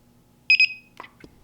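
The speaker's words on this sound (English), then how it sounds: "so it beeped" A WiFi garage door controller being paired gives a quick double beep, two short bright electronic tones close together, followed by faint handling clicks in an otherwise quiet room.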